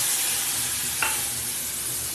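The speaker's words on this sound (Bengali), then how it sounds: "এটা দিয়ে এবার ভালো করে আমি অনেকক্ষণ ধরে নেড়ে চেড়ে কষিয়ে নেবো" A soaked spice paste fries and is stirred in a pan, making a steady close-up sizzle with a single brief scrape of the spoon midway.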